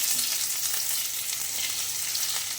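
Garlic and spices crackle and sizzle steadily in hot oil in a pan, a close, bright continuous frying hiss with no voices.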